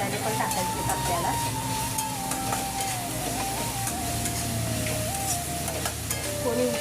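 Coriander and peanuts sauté in a pan for upma, a dense steady sizzle with scraping stirs, under a thin whining tone and low background noise throughout.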